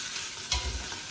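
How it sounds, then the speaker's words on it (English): Onions frying in sunflower oil in a pot, a steady low hiss of sizzling with a brief louder burst midway, close and fairly quiet, no voices. "We're gonna fry the onions in sunflower oil."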